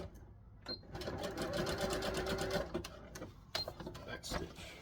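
A sewing machine back-stitches elastic on wrestling tights in a quick, close mechanical rattle that stops briefly before a few more stitches.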